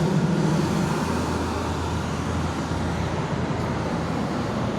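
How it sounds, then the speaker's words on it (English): Steady, loud roar of street traffic as big trucks and a noisy pickup pass close by, a continuous rumble with no pauses and no speech. "We have big trucks going by and a pickup truck that was noisy."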